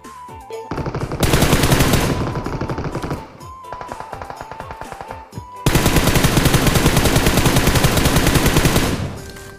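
Automatic gunfire in the mobile shooter PUBG Mobile, two long sustained bursts of rapid shots, loud and close, with a short gap of scattered shots between them and no talk.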